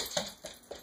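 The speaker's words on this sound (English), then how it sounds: "Silly doggy." A small dog gives three short, soft whimpering yelps spaced evenly apart, close and fairly quiet with no talk.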